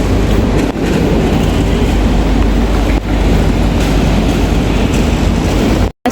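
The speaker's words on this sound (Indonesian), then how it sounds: "Guys, lagi hujan deras banget." Heavy rain pounding down amid typhoon winds, a dense, loud, unbroken roar that holds steady throughout before cutting off abruptly at the end.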